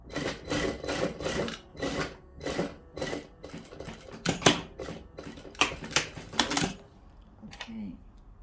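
A sewing machine stitches a bra cup being reduced in size, running in short rhythmic bursts of rapid needle clatter with brief pauses between, fairly quiet and close, ending in a few handling clicks.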